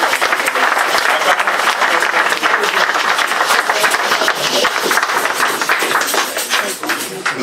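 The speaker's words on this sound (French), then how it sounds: "Peuple de Dieu, acclamons pour Jésus." Loud, dense applause from an Easter church congregation fills the whole stretch, many hands clapping close together in a continuous wash.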